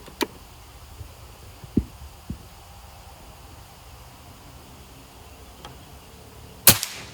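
BOCAP RTXX air rifle fired at long range, a single sharp crack near the end after a few faint, small clicks, outdoors over a low hiss.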